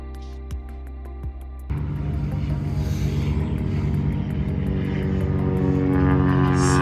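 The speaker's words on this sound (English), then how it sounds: "Planes have been taking off for a half hour now." Propeller airplanes take off at the Oshkosh airfield. After a faint opening, a loud, steady engine drone and propeller buzz start suddenly and hold, growing slightly stronger toward the end.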